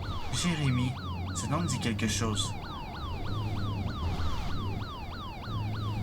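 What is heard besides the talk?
police car siren looping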